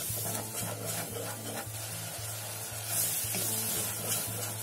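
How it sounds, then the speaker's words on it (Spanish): Onion frying in melting butter in a pan, a steady close sizzle with soft stirring and scraping sounds over a regular low background hum, no talking. "vamos a cocinar bien la cebolla"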